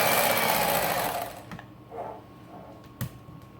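An electric hand mixer beats cream cheese until smooth, a loud buzzing whir for about one and a half seconds that cuts off, followed by a few faint knocks and a brief clatter.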